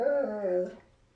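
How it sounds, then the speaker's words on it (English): A dog gives a single drawn-out whimper, close and fairly loud, fading out after under a second. "that's the dog"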